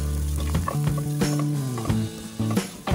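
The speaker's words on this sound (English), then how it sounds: "and I'll quickly fry them" Cabbage and carrot frying in a pan, loud close sizzling with repeated stirring scrapes and clatters at an uneven rhythm.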